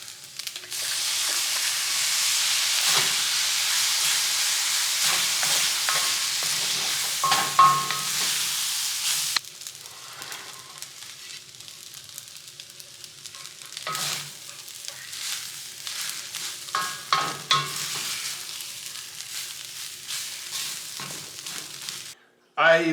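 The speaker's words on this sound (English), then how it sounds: "I'm just going to kind of stir fry these first and then add other ingredients" Leftover ingredients stir-fry in a pan on the stove with a loud, steady sizzle and hiss, interrupted by scraping and clattering stirs, then a quieter crackle that swells again with further stirring.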